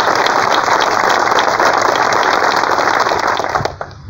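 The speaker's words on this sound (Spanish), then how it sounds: "Quiero un fuerte aplauso" Dense, steady applause from an audience honoring a colleague at the opening of a modular hospital in General Rodríguez, loud and continuous for about four seconds before thinning out at the end.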